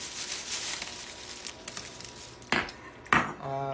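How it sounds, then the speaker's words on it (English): Short knife work on a pre-made bread bowl: soft scraping and crackling of the crust, then two sharper clinks near the end, quiet and close. "I'm just going to cut one of these and about a third off of it to make a small one"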